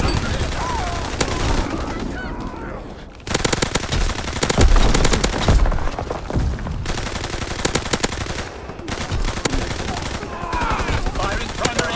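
Rapid machine-gun strafing from fighter aircraft in a WW2 video game comes in loud repeated bursts with short pauses between them, and game voice lines are heard in places.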